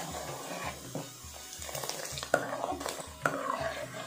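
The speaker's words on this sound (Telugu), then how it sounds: "సో మిల్క్ మేడ్ వేసుకున్నాక ఒకసారి కలుపుకోవాలి." Condensed milk being stirred into bottle gourd kheer, a quiet, steady rhythmic scraping of a spoon around the pot with a couple of sharper knocks, close and without talk.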